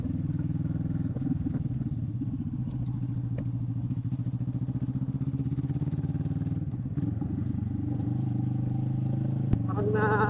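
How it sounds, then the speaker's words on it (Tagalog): Motorcycle engines hum steadily close by for about ten seconds, with a rise in revving near the end and some clatter mixed in, while people talk over the engine noise. "May mga motor naman yun eh."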